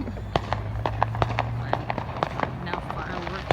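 Fourth of July fireworks popping and cracking in the distance, a steady scatter of sharp bangs under continuous background noise and some talking.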